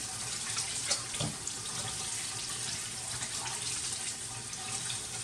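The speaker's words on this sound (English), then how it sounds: "let me wash my hands really quick" Hands being washed under a running kitchen tap, a steady close rush and splash of water that lasts throughout with small shifts as the hands move through the stream, and no talking.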